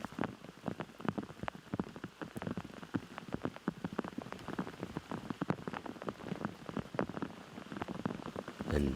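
Rain falls steadily on the course during a professional disc golf final, a dense patter of drops spread evenly across the whole stretch, with commentary voices faintly underneath.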